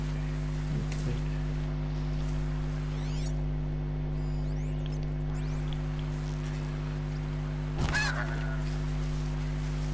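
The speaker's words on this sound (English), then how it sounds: "That's another goose." In Horizon Zero Dawn, a goose honks a couple of times against a steady low hum and soft rain-like hiss, with one sharper call standing out near the end of the stretch.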